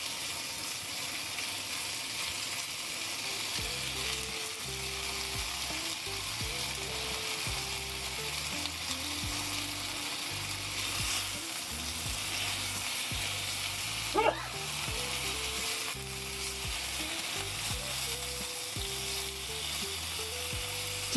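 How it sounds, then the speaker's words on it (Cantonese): Beef rice noodle rolls crackle and sizzle in a hot pan as they brown on both sides, a continuous close frying hiss lasting about twenty seconds with one sharp clink midway. "煎到兩面都焦，"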